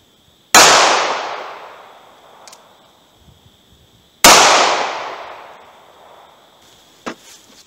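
Two sharp, loud .22 Magnum gunshots from a NAA Mini revolver firing Hornady Maxi Mag Plus V rounds, each crack ringing out and decaying over a couple of seconds, spaced about four seconds apart, with a faint clank afterward.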